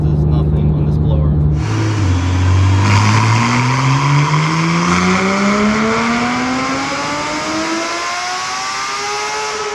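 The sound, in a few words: supercharged Procharger Porsche GT3 RS engine revving high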